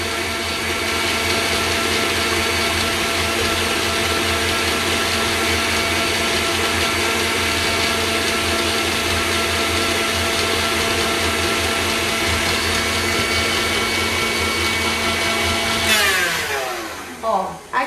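A stand mixer whisks Ovomaltine mousse cream with its balloon whisk, a loud, steady motor whir running unbroken before winding down at the end.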